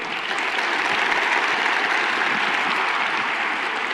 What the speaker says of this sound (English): Hey, let's give these guys a round of applause.